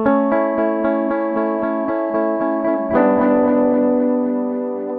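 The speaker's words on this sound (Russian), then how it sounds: "Я выкручу ручку фидбэк на максимум и задам время задержки с помощью кнопки Tap." An Empress Superdelay pedal runs a dynamic delay with feedback turned to maximum, evenly spaced repeating echoes of a sustained instrumental tone that swell with a new chord midway and trail off.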